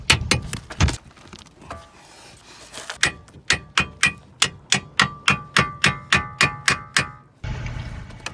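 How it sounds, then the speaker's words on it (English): Sharp metallic hammer taps seating a Nissan Juke control arm ball joint into the steering knuckle, a few quick blows then a steady run of evenly spaced strikes, loud and close. "Just use a hammer and tap it a little bit."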